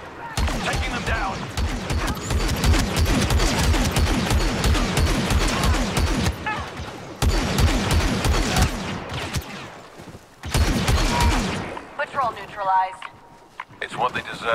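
Rapid blaster gunfire rattles through a Star Wars Battlefront II battle on the moon Yavin 4, with dense repeated shots for several seconds, short pauses and renewed bursts, and voices calling out over the combat.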